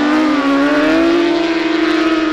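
Autograss race cars at a dirt-track final roar with a sustained, loud engine drone whose pitch rises slowly, heard steadily without any voices.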